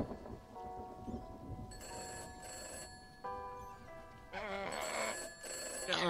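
A telephone rings in an inn within the spell-themed arcade video game The Hex, several bright electronic ring bursts repeating over a low rumbling game background, fairly quiet overall.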